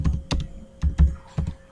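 A title is typed on a computer keyboard: a few sharp, close key clicks in irregular bursts with short pauses between them.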